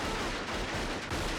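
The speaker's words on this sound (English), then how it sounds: "he's actually firing right into the camera" Rapid blank gunfire from a pistol fired straight at close range, a dense, continuous burst of sharp reports packed together with no pauses and no voices.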